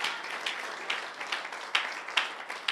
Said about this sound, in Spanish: Dele más fuerte ese aplauso al Señor.